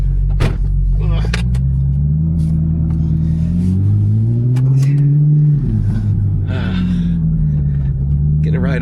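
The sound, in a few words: Ferrari 458 engine revving during a ride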